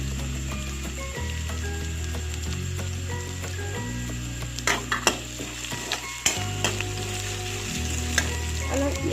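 Spices sizzle and fry in a pan on a gas stove while garoi fish curry with ginger and garlic is being made, a steady crackle broken by several sharp scraping stirs and clinks near the end.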